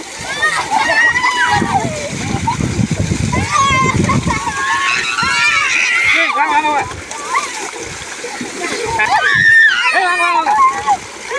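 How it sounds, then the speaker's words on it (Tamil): Water splashes and sloshes repeatedly as people bathe at a farm pump set outdoors, with children's voices and chatter throughout and bursts of splashing mixed in. "இங்க பாத்தீங்கன்னா பம்பு செட்ல குளிக்கிற"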